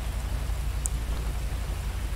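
Rain falls steadily in the video game GTA V, a dense, even hiss of drops on surfaces with a low rumble beneath, continuous and unbroken with no voices.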